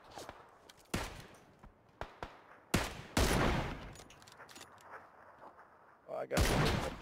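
Gunfire in PUBG rings out as sharp single shots spaced irregularly, followed by a longer, louder volley, with players talking over the action.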